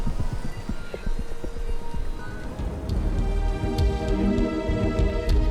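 A storm whips wind across a lakeside camp at Band-e Amir, Afghanistan: a constant low rumbling roar mixed with scattered crackling taps and flaps, steady and fairly close, with no one talking.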